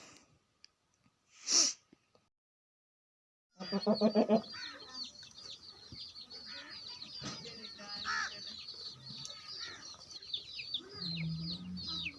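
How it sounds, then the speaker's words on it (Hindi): Hens with newly hatched chicks on a farm in cold, windy weather, a loud nearby squawk or sneeze-like call, then continuous clucking and high chick peeps at close range. "ये हमारी मुर्गियों ने अपने जो है बेबी निकाले हुए हैं, तो ये वो हैं।"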